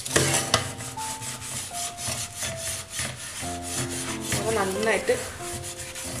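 A well-used scrubber rubs hard across a burned nonstick pan in quick repeated back-and-forth strokes, close and gritty, while someone talks over the scrubbing.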